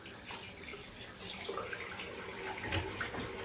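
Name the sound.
running tap water while washing hands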